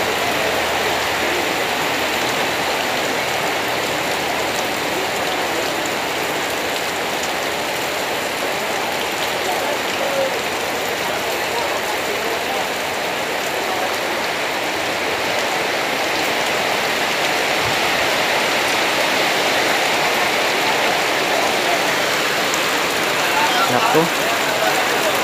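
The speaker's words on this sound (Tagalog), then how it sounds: "Grabe ang lakas ng ulan." Steady heavy rain pours down continuously, a dense hissing wash of drops on surfaces that holds at the same strong level throughout.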